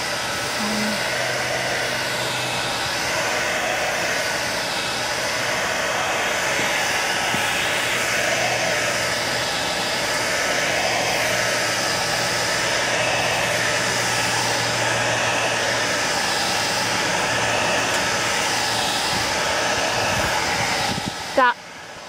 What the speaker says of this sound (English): Now I will turn on the hairdryer and spray it for 25 seconds.